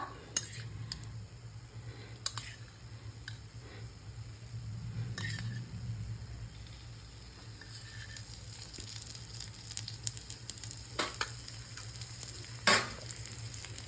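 Adai, a lentil dosa, sizzles softly in coconut oil on a pan, a steady low frying hiss running throughout with a few faint clinks of a utensil.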